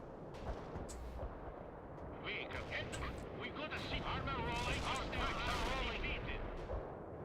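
Turret gunfire in a video game battle, a continuous faint rumble of shots and explosions over several seconds, with someone talking over it.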